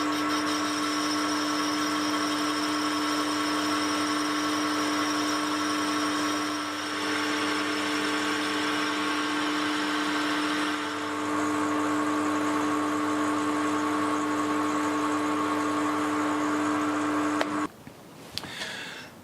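A lathe takes a facing cut across a cast iron mounting plate at 0.1 depth, a steady high-pitched tonal whine with motor hum that holds for about seventeen seconds, then stops abruptly into brief clatter.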